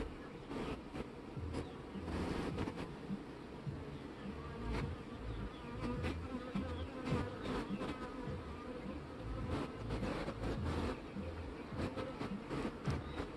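Dense, steady buzzing of many honey bees in a hive close by, a continuous droning hum with individual wingbeats flickering through it.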